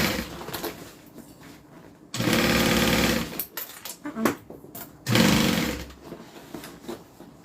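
A sewing machine stitching a custom order runs in two steady, loud whirring bursts, separated by quieter handling noises and soft clicks.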